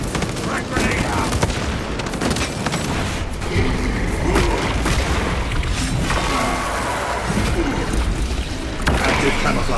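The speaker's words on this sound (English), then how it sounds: "Frag grenade out." Frag grenade blast in the Warhammer 40k game Space Marine 2, a loud booming burst amid sustained gunfire and battle noise, with continuous dense combat sound throughout.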